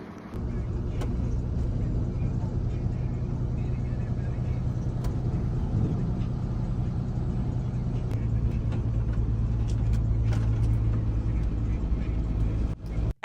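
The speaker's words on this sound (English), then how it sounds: "That's me driving through Maple Heights." A car drives along a road through Maple Heights, its steady engine and road rumble holding throughout, with faint voices present and a brief clatter near the end.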